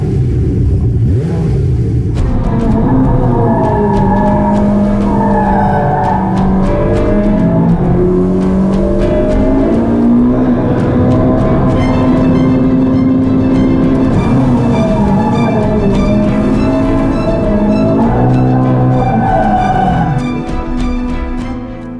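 A Ferrari 488 Pista's engine drives hard on a track, its loud, continuous roar rising and falling in pitch through repeated revs and gear changes, with no voices over it.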